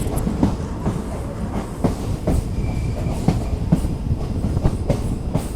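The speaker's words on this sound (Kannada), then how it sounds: "ಪ್ಲ್ಯಾಟ್ಫಾರ್ಮ್ ನಂಬರ್ 2ಗೆ ಹೋಗ್ತಾ ಇದೆ ನಮ್ಮ ಟ್ರೈನ್." A train pulls into a station platform at Tiptur, rolling with rhythmic clickety-clack of wheels over rail joints, steady and close, with faint squeals, no voices.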